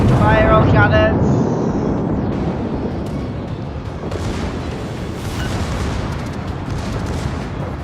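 Naval cannons firing in the video game World of Warships, a loud booming blast followed by a long rumbling roar and broadband rush, with a voice briefly audible at the start.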